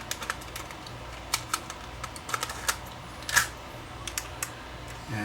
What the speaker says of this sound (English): And let it thread.